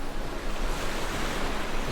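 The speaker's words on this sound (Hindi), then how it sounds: "उसकी लहरों की आवाज़ को सुनिए।" Ocean waves wash steadily onto a shore in a continuous, broad rushing surge with a faint breezy edge, alone and fairly close, no voices present.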